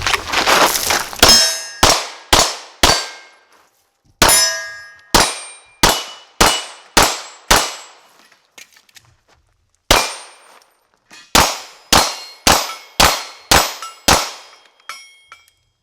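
Handgun shots fired by a professional shooter at steel targets, a long string of loud sharp cracks each followed by a ringing clang, in quick bursts with short pauses between groups, close and without talk.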